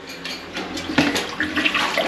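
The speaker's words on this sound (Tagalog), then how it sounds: "Yun, na-flush." A toilet flushes in Sagada with a loud, close rush of swirling water that builds and keeps gurgling without pause, no voices present.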